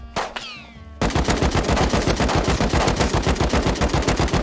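Suppressed gunfire in the survival game Rust: a brief burst near the start, then a steady rapid stream of muffled automatic shots, loud and close, with no talk.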